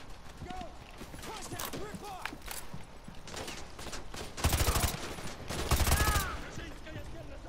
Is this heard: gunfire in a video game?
yes